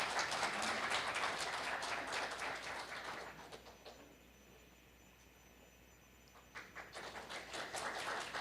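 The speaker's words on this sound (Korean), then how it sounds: "큰 박수 부탁드립니다" An audience at a book launch event claps in a burst of dense applause that dies away to near silence before a second, smaller wave of clapping starts up, heard from a distance at low volume.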